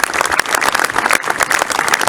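A crowd at the Martlesham Heath centenary celebrations applauds loudly and continuously, dense overlapping claps filling the whole stretch close by.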